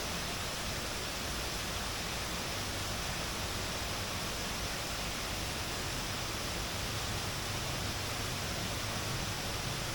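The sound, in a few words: artificial waterfall, fake cascading water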